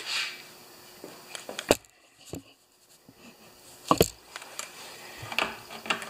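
Torx bits work screws loose on a Toro Recycler lawn mower that will not start, giving scattered clicks, ratcheting ticks and metallic taps in uneven bursts, close and fairly quiet.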